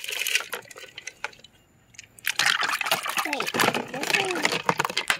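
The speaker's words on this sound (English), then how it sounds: "Just dip them in the water" Metal parts for a vibratory tumbler are dipped and swished in water, giving close splashes, drips and sloshing in irregular bursts, with a quiet pause partway through.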